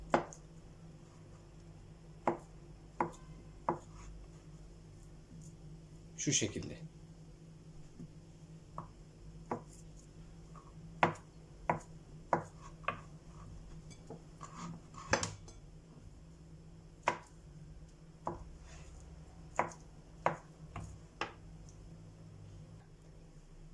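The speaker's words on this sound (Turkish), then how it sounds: "Küçük kütle haline doğradığımız patatesleri" Sharp, irregular knife taps on a cutting board as potatoes are diced small, about a dozen distinct chops spread over a quiet kitchen background, with a brief spoken phrase in Turkish.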